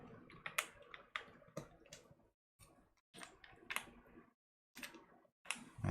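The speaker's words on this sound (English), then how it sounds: "I'll just go ahead and put the original switch back." A switch is pushed back into a mechanical keyboard, giving a close run of sharp plastic clicks and taps in short bursts separated by brief silent pauses.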